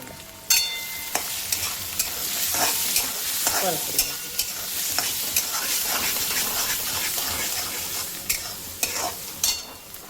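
Onion fries in hot oil with red chilli powder, garam masala, turmeric and salt, a steady close sizzle broken by sharp clicks and scrapes of a spatula stirring the pan.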